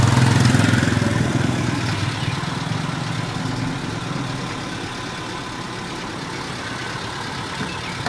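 A 1996 Toyota Kijang Super SX engine runs steadily nearby, a low, even rumble that is loudest at the start and then settles into a constant idle with no talk.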